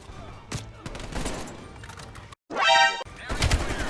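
Rapid automatic gunfire and impacts in the shooter Call of Duty Black Ops Cold War, dense bursts close and loud, broken by a moment of silence and a rising whoosh before more shots.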